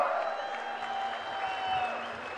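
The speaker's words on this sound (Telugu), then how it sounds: "గట్టిగా చప్పట్లతో తెలియజేయాల్సిందిగా కోరుతా ఉన్నాం" A crowd applauds with sustained clapping, moderately loud and continuous, over a faint background hum.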